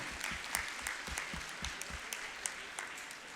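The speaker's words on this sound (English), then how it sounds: "they deserve an even more thunderous round of applause. Please give them one." Audience applause for performers at a school foundation day celebration, a steady moderate wash of clapping with distinct individual claps standing out.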